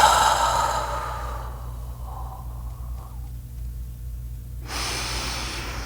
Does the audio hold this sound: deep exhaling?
yes